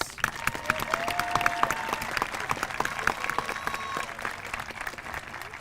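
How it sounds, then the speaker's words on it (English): An audience at an eighth-grade promotion ceremony applauds a homeroom with sustained, dense clapping and a few whoops and voices mixed in, and the clapping thins out toward the end. "Let's recognize Miss Kane's homeroom with a round of applause"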